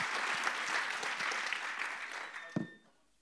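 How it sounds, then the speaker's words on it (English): An audience at an industrial decarbonisation conference breaks into warm applause that holds steady for a few seconds, then fades out after a final thump. "could I just get a heartfelt round of applause?"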